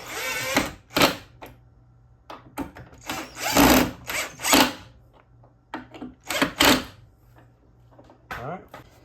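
Screws being started into a hinge on a homemade fishing rod holder, with several short bursts of drilling separated by pauses and someone talking in between.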